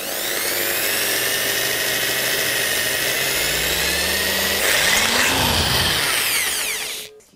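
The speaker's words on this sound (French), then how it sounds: "Pour percer le métal, on doit toujours avoir une vitesse de rotation lente pour la perceuse." An electric drill bores slowly into metal, a continuous close whining drone with a grinding shift near the end before stopping abruptly.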